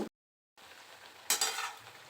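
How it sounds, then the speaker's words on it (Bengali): Semolina crab-shaped pitha frying in hot oil in a wok, a soft sizzle after a brief silent gap, then a louder burst of crackling hiss as the pieces shift, without talk. "লাল লাল করে ভেজে নেব"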